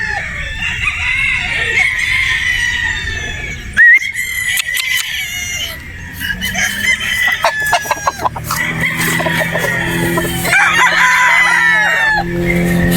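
A straight comb gamefowl broodstag crows loudly nearby several times, mixed with clucking from other fowl and a few sharp knocks.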